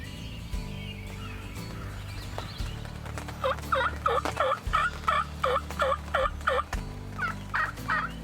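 A wild turkey hen calls from near a field in a rapid series of about a dozen raspy clucks and yelps, fairly close and distinct, over a steady low background rumble.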